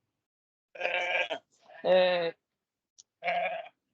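Lambs and sheep on an organic farm near Inverness bleat three times in close succession, clear separate calls with silence between them.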